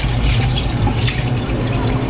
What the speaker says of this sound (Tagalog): Hugas naman natin yung bigas.